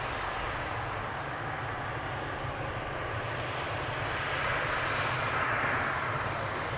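A KLM airliner at Amsterdam Schiphol Airport, a loud unbroken jet roar holding steady and swelling slightly toward the end, heavy and close with no talking over it.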